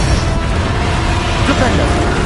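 Bombarda explosion spell going off in Hogwarts Legacy, a loud, dense booming blast filling the whole moment with rumbling low end and crackling debris, mixed with game noise.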